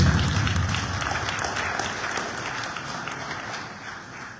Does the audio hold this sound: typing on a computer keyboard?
no